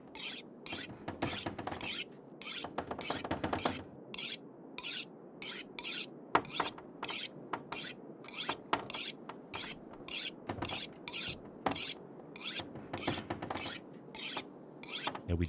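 A hatchet is sharpened in the video game The Long Dark, with steady rasping file strokes scraping back and forth in a regular rhythm, close and alone.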